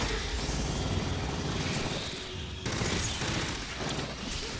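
Heavy sustained gunfire in the co-op shooter Aliens: Fireteam, a loud, dense rattle of automatic weapons with a brief lull midway before the barrage resumes, and no voices.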